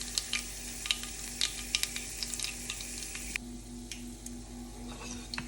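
Oil fries the tempering for curd rice, a faint, steady sizzle with small scattered pops and crackles under a low hum.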